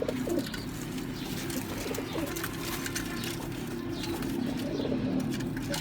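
Pigeons of a for-sale flock cooing softly in low, repeated murmurs over a steady background hum, somewhat distant and without speech.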